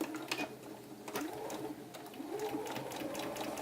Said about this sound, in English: Again, start with a stay stitch